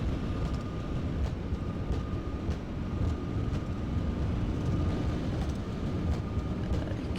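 Airliner takeoff roll in the X-Plane 10 flight simulator game: a steady, dense engine roar and rumble of rolling down the runway, constant and fairly loud throughout with no pauses.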